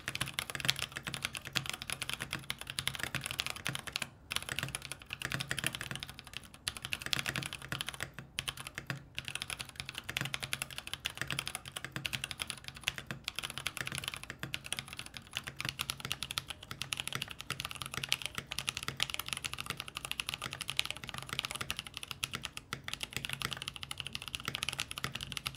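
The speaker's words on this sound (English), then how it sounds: "So let's drop a sound test of both on a full keyboard." Continuous typing on a full-size mechanical keyboard fitted with Glorious Panda switches, a dense, steady stream of close, crisp keystrokes with brief pauses and no talking.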